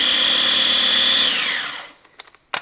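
A food processor on its chop setting whirs at a steady high pitch while chopping parsley and dill, then winds down to a stop, followed by a few faint clicks and a sharper knock.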